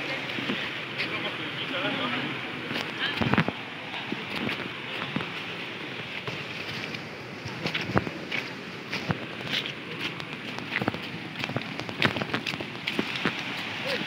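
Fast-flowing river water near Sungai Pisang waterfall in Gombak, Kuala Lumpur, a continuous rushing hiss with sporadic sharp splashes and knocks, and a voice talking over it.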